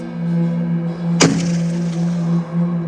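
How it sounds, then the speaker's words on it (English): A single sharp smack of a snowball striking a glass window at night, standing out as one loud hit over a steady low hum in a quiet bedroom. "The sound of a snowball hitting the window."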